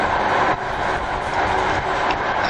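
A Hokkaido Shinkansen Hayate train runs on its rails, a steady broadband rumble and rush heard from inside the car, continuous and moderately loud.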